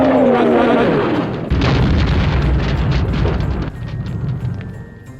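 Missiles explode inside a studio: a falling whistle-like tone drops for about a second and a half, then a loud, close blast breaks into a long crackling, rumbling roar that eases off slightly toward the end, with no talking.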